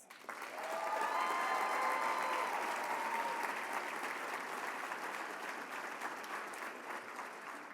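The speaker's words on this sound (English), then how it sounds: "Please give them a round of applause." An audience at a youth advocates of the year awards ceremony applauds young tobacco-control advocates and their adult allies, a dense sustained clapping that swells within the first second, holds steady, then eases slightly toward the end, with faint whistles or cheers early on.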